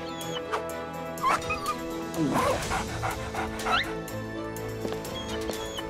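Cartoon dogs bark, yip and whimper in short bursts over a musical background, several yelps clustered in the middle.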